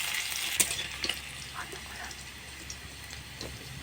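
Chopped chicken fries in a pan, a steady sizzle broken by a few scraping stirs and clinks near the start, with faint talk in the background.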